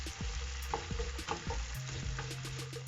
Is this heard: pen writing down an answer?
no